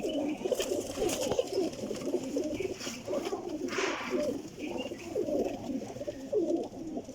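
Sialkoti pigeons, including an almond-headed Sialkoti cross, coo steadily in a continuous low rolling chorus, with several birds overlapping close by throughout.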